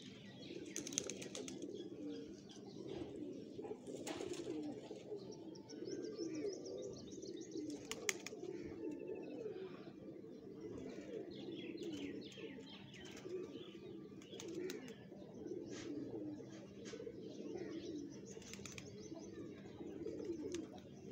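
Pigeons coo softly and continuously in the background, with occasional chirps and faint rustling, all quiet and distant.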